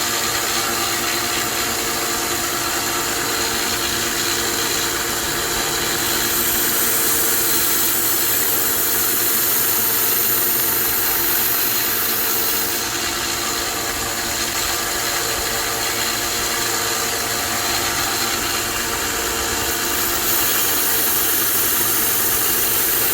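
A power tool bevels the edge of a part of a QSP Penguin, giving off a steady, loud, continuous motor whine and grinding drone with no breaks, heard alone.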